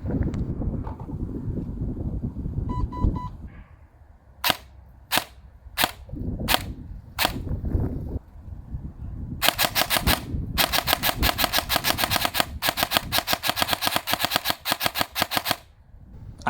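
An airsoft AR-15 S-AEG on an 11.1 volt LiPo battery fires a few sharp single shots, then a long, fast, evenly spaced burst of snapping cycles, loud and close.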